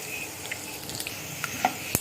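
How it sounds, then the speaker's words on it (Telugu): Dried red chilies sizzle in hot oil with mustard and cumin seeds for a pickle, a faint, soft frying hiss broken by occasional small pops and crackles. "ఈ ఎండుమిర్చి మంచిగా వేగాలి"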